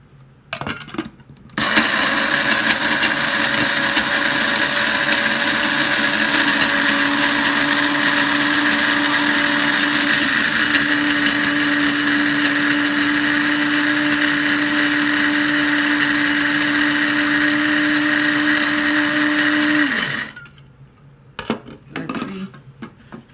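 Electric spice grinder running steadily for about eighteen seconds as it grinds dried turmeric rhizomes into powder, a loud continuous whine that starts and stops abruptly with quiet handling noise on either side.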